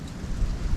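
Low, steady wind rumble buffeting the microphone, with gusty swells and no voices.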